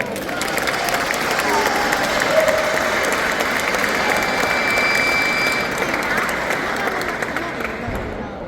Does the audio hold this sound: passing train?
no